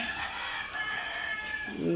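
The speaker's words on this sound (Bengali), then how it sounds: "এই যে দেখতেছেন আমাদের কোয়েল পাখিগুলা মাসাল্লাহ অনেক চঞ্চল সুন্দর" Quail chicks chirp and call busily at close range on a small farm, a continuous high twittering chorus with a few lower clucking notes near the end.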